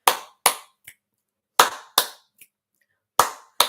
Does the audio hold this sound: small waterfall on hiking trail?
no